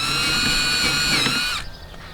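A power drill with a 3/8 bit enlarges a hole for a rivet nut during a Phastek wickerbill install. It gives a close, steady high whine for about a second and a half, then cuts off, leaving a faint background.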